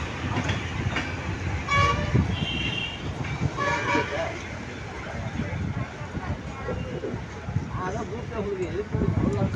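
A passenger train on the Karur to Mangalore run pulls into Erode Junction, its rumbling wheels, rail clatter and a brief horn toot carrying steadily beneath nearby voices on the platform.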